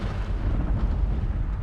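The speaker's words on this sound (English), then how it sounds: "Those explosions exposed some more bloodstones." A deep, rumbling roar of explosions in the video game Guild Wars 2, heavy and sustained, with low booms rolling over one another.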